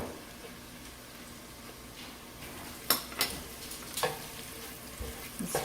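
Garlic cloves hit hot fat in a soup pot and sizzle steadily, with a few sharp clinks and scrapes of a utensil against the pot partway through, close and fairly quiet.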